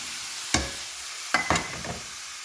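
Onions, potatoes and carrots being stirred in a pot for vegetable lentil soup, with a few separate scraping stirs sounding close against a quiet kitchen background.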